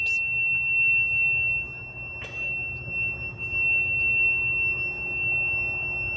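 A golf cart's reverse warning beeper gives a steady high electronic tone through the whole stretch, with a brief click partway in, over constant low rumble on an outdoor golf course.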